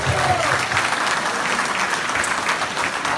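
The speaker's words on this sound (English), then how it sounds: "So you all need to give yourselves a big round of applause." Audience applause at a community gathering honoring a Vietnamese boat people memorial association, dense steady clapping filling the whole stretch at full loudness, with faint voices mixed in.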